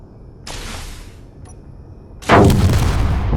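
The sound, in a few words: ship weapon firing shots in Space Engineers video game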